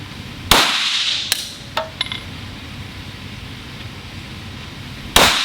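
Sharp gunshots from an Avidity Arms PD10 pistol ring out outdoors: one loud crack near the start, a few quicker, lighter cracks and clinks in between, then a final loud shot near the end.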